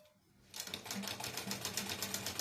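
A sewing machine stitches lining fabric into a katori blouse, starting after a brief quiet moment and then running in a fast, steady mechanical whirr with rapid repeating stitch pulses, close and fairly soft.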